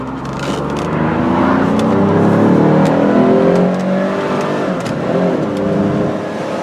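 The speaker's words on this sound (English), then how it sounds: "As soon as this car goes by, we'll take it, accelerate pretty hard just so you can see." A 1996 Chrysler Sebring JXi convertible accelerates hard, its engine note rising steadily in pitch as it revs up through the gears, loud and close from inside the car, then easing off.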